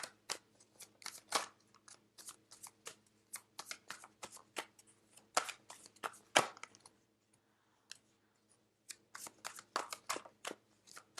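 Tarot cards are shuffled in quick bursts of crisp riffling and slapping, repeated many times with short quiet pauses between, close and clear with no talking.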